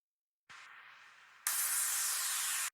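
Exhaust sound effect sample for a future bass track: a steady synthetic hiss that starts softly, then jumps to a louder, brighter burst that holds before cutting off abruptly.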